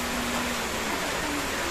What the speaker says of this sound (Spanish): Está lloviendo.